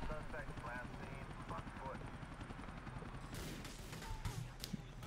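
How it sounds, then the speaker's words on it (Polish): Gunfire in the video game GTA IV, a quick series of sharp shots bursting out in the second half over a steady rumbling game backdrop, with someone talking throughout. "O, jakieś strzały tu słychać."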